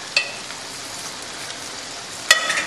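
Chicken, mushroom and prosciutto risotto simmers gently in a pan while it is stirred, a soft steady bubbling hiss broken by two sharp spoon clinks against the pan, one at the start and one near the end.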